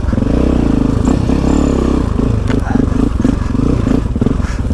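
A KTM enduro motorcycle idles and putters loudly up close while pushing through dense bushes, its engine note steady with uneven throttle blips, accompanied by branches scraping and clattering against the bike.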